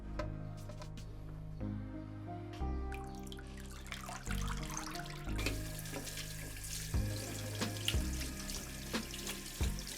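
Tap water runs and splashes in a sink while a lamb head is washed, with gurgling flow, intermittent clunks and handling noises, fairly close and alone.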